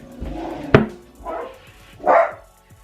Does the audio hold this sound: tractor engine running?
no